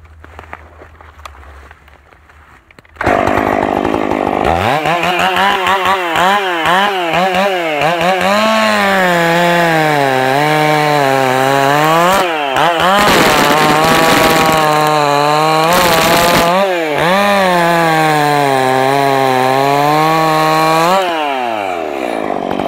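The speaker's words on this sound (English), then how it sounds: "I'm gonna make a cookie cut off of this red oak." A Stihl MS461 chainsaw with a hand-filed round tooth chain cuts a cookie slice off a red oak log. It roars loudly and continuously at full throttle, with pitch dips as it bogs in the wood.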